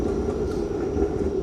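A low, continuous rumble of a train approaching in Toronto, heard steadily at moderate distance with no talk.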